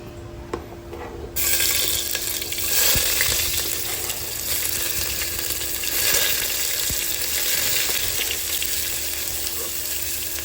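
Onion sizzles in hot oil with whole spices as the base for chicken pulao, while a spoon stirs it. A quieter start jumps to a loud, steady, close frying hiss that carries on for the rest of the clip.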